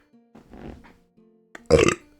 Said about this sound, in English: I keep getting just wimpy little terrible burps, and it's making me so mad